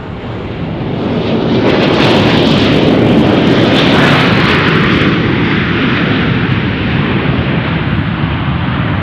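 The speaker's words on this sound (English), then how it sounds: "There's our Asiana lining up. 2-6 right." Asiana airliner lining up on runway 26 right at Las Vegas, a loud steady broadband roar of jet engines that swells in the first seconds and holds, with gusty crosswind buffeting the microphone.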